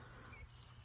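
A short, high chirp from a bird outdoors, brief and fairly faint against low background noise.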